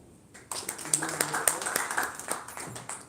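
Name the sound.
audience applause at award ceremony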